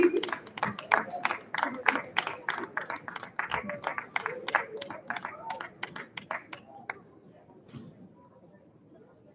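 An audience at a school graduation ceremony claps for award winners, with a dense burst of applause that thins out and fades toward the end of the clip.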